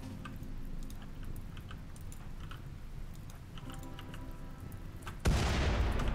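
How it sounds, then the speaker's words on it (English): Explosions in the video game Rimworld rumble as a dense, low, continuous barrage at moderate distance, swelling into a louder burst near the end. "Still explosions?"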